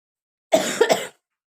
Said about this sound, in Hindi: सॉरी, खांसी आ गई थी मुझे